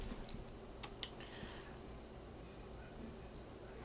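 A few quick keystrokes tap on a computer keyboard, faint and close, in a quiet room with no voices.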